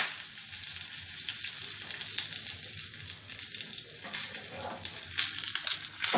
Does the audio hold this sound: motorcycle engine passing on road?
no